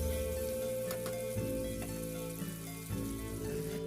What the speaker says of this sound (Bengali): তাই টমেটোটা তেলের মধ্যে নাড়াচাড়া করতে